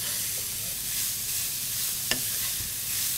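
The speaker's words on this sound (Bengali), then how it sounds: "গাজরটা একটু সিদ্ধ হতে টাইম লাগে, যার কারণে একটু বেশি সতে করতে হয়।" Two large carrots being sautéed in olive oil in a pan, a steady close sizzle with soft stirring scrapes and one sharp clink of a utensil partway through.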